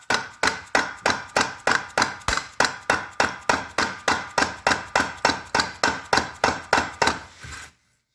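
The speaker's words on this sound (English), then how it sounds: "turning the bolt, hitting it there, turning again, hitting it" A hammer strikes a driveshaft bolt on a 1990s BMW 735iL E32 sedan in a steady run of about twenty sharp metallic blows, roughly three per second, each ringing briefly before the next. The hammering is close and steady, then stops abruptly.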